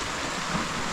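Steady rain falls on and around a wide-roofed firewood shed, a dense even hiss with no clear drops or pauses, continuous and moderately loud for the whole second.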